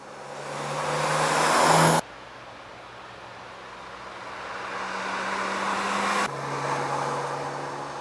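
A 2000 BMW Z3 M-Roadster is driven hard on a private airfield, its engine roaring loudly at high revs, then cutting to a steadier, quieter drone before surging again near the end.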